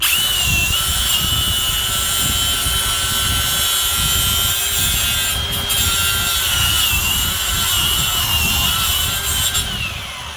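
Steady, loud sawing of a blade cutting through material, continuous and close with an even grinding rasp, no talking.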